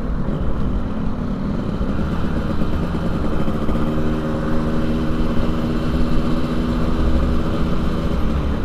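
A Yamaha RX King two-stroke motorcycle engine runs steadily and close up for the whole stretch, a dense buzzing drone with low harmonic bands, no talk over it.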